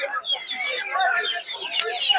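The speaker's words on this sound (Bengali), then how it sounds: "দেশি মুরগির বাচ্চা আছে" Local chicks at a poultry market cheep in high, overlapping chirps, close and continuous, mixed with other market fowl.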